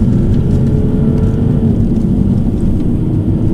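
A 2019 Mini John Cooper Works Hardtop engine drones loudly from inside the cabin while downshifting, a low steady rumble with slight rising pitch as it pulls, no voices.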